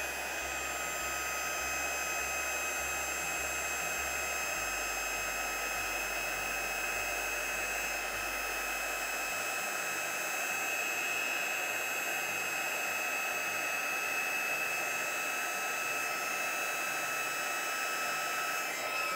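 A heat gun blowing steadily as it melts clear embossing powder on a card, a continuous even whirring roar held close for the whole stretch with no talk.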